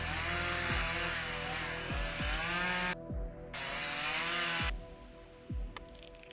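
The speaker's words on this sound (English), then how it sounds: "Okay, now get out the chainsaw." A chainsaw in a surgery video game buzzes loudly and continuously, broken by a few brief dropouts, with repeated thumping impacts beneath the whine.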